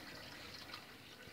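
Water running along inside a hydroponic pipe toward a drop to the next stage makes a soft, steady trickling flow, faint and continuous with no talking.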